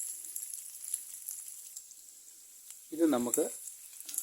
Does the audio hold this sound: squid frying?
yes